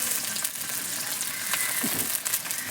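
Tomatoes hitting hot oil in a frying pan during village cooking of a cabbage egg curry, giving a constant bright sizzle with a few soft stirring scrapes, close up and alone.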